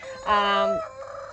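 A Rhode Island Red rooster crows once, a loud harmonic call swelling and breaking off within a second, followed by faint clucking and farmyard noise.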